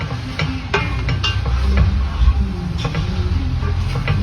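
A spoon stirs salt into food frying in a pan, giving loud, close scraping strokes at an irregular rhythm over a continuous sizzle.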